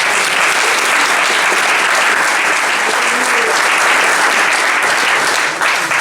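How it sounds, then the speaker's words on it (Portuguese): A church congregation applauds loudly and continuously for about six seconds, a thick, even roar of many hands with faint crowd voices mixed underneath. "Aplauda o nome do Senhor, amém?"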